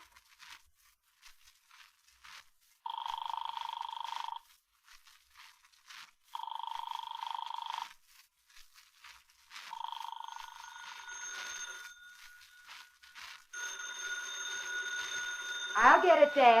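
Old-time telephone bell in a classic radio crime drama, rings in three repeated bursts of steady double-toned ringing, then a fainter continuing ring as a voice answers, with scattered rustles between.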